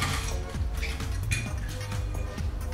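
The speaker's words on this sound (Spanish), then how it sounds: "Luego añadimos más hielito picado" Crushed ice is spooned into a cocktail glass, a busy, close clatter of small ice pieces clinking and crunching against glass in quick repeated scoops.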